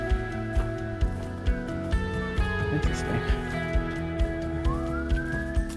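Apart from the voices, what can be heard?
siren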